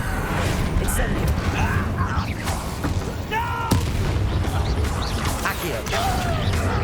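Incendio fire spell cast in Hogwarts Legacy, a loud burst of game combat with booming, crackling impacts and mechanical clatter running continuously over several seconds, with a sharp hit near the middle.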